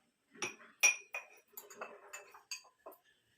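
Metal spoons clink against a bowl as corn flour, gram flour and rice flour go in for an aloo 65 recipe, giving a series of sharp, bright taps spaced irregularly and close by, with no talking.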